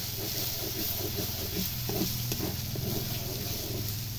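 Cumin paste, turmeric, a little sugar and dried chillies sizzle in hot oil in a home village kitchen, a steady soft frying hiss with faint stirring clicks throughout, no talking.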